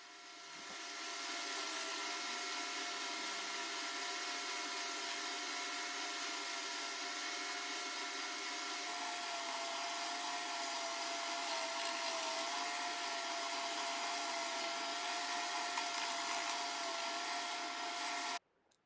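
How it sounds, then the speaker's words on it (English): A spindle stroke belt sander in a workshop runs with a steady, loud mechanical whine and motor drone, holding constant for about eighteen seconds before cutting off abruptly at the end. "I'd recently set up my spindle stroke belt sander,"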